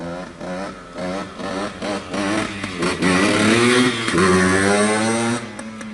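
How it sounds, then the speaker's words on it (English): A 1990 Yamaha RT100, a small-bore air-cooled two-stroke motorcycle, revs up close. Its buzzy engine note climbs in repeated blips and then holds a louder, sustained rev toward the end. "Robust is an understatement for these late model air-cooled Yamaha 2-strokes."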